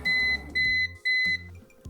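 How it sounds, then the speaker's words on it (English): An APC Back-UPS Pro 1500VA battery backup gives three loud, steady electronic beeps, each held about a third of a second, with short gaps, over a low background hum. "I'm not sure what that beeping noise is"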